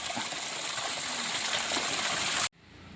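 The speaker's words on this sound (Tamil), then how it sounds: "ஓகே தண்ணி ஓடுது நீட்டாக" Water gushes steadily and loudly from a borewell pipe, a constant rushing flow that cuts off abruptly near the end, leaving quieter background noise.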